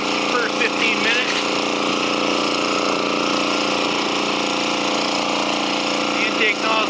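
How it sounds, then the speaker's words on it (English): A suction dredge pump's engine drones loudly and continuously nearby while dredging sand underwater, with a steady mechanical chatter running through the whole stretch. "Sand is really easy to dredge."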